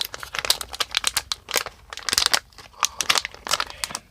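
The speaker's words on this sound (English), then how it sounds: "These come in a resealable package." A resealable plastic package of LED replacement bulbs for a 1987 Holiday Rambler Aluma-Lite XL crinkles and crackles close up as it is handled and opened, in quick irregular bursts.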